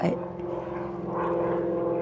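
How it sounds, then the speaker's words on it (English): A propeller airplane passing overhead on a bright, clear day, a steady droning hum with a strong low tone that swells slightly louder midway, heard over faint outdoor background. "Hey, plane."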